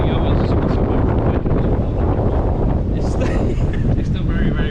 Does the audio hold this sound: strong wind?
yes